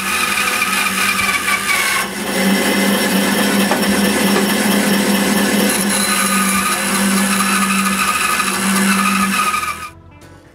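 A power saw cuts the curve of a wooden dog basket, a loud, steady whining buzz that holds for several seconds before cutting off abruptly near the end, close up with no talking.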